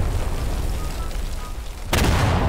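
A powerful weapon fires once in Garry's Mod, a sudden heavy boom breaking out of a low rumbling background near the end.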